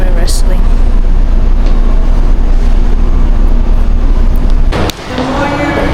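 Rumble of a Tokyo commuter train in motion, a steady low drone with rattling and a sharp clatter near the end, loud and close throughout.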